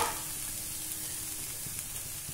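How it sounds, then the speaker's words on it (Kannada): Mixed vegetables frying in a pan for vegetable oats, a steady close sizzle running the whole time with faint stirring scrapes and no talk. "ತರಕಾರಿ ಎಲ್ಲ ಹೀಗೆ ಸ್ವಲ್ಪ ಹೊತ್ತು ಫ್ರೈ ಆಗಲಿ."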